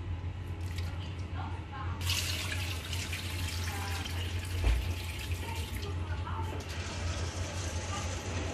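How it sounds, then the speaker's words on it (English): Lentils being washed under a running kitchen tap, a steady close rush of water with light rattling and clinking from the sink, and a voice speaking faintly in the background. "So we're washing the lentils."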